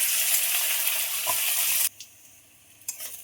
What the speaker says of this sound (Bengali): পেঁয়াজ কুচি দিয়ে খুব ভালোভাবে নেড়ে দেবো।